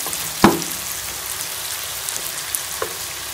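Chicken and tomatoes fry in a pan with a steady, hissing sizzle and a sharp clatter near the start, followed by a few faint taps, close by and with no speech.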